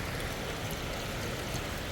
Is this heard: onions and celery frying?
no